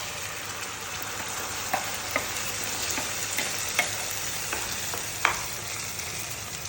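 A ground paste of sautéed onion, tomato and garlic fries in a pan with a steady low sizzle, broken by a few sharp pops and spatula taps, close and moderately quiet.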